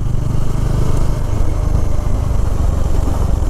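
Motorcycle engine running steadily during a ride around Lunglei, a continuous loud low rumble with wind noise throughout, no talking.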